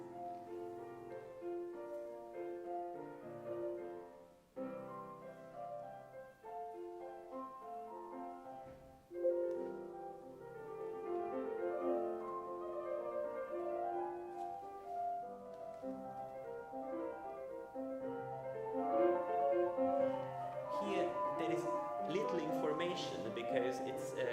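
Solo piano playing a lively, flowing passage of steady notes from the first movement of Bach's Italian Concerto, an older recording with some surface noise.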